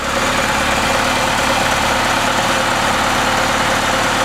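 A Lada engine idles close by with the lambda sensor disconnected, a steady, even rumble with a constant mechanical hum throughout and no voices.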